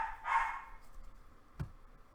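Dogs indoors give a short burst of barking early on, fairly loud but a little removed, followed by a single dull thump and then quiet room tone with no talking.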